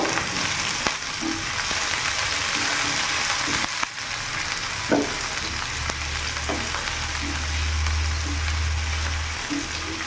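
Sliced onions frying in a pan over a medium gas flame: a continuous dense sizzle, with a few stirring knocks and a low hum running underneath.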